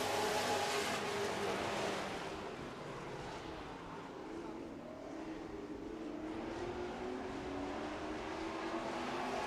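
Super stock race cars roar around an asphalt oval on the final lap, a broad continuous engine drone that swells and fades slightly as the pack passes, heard from a distance with no one talking.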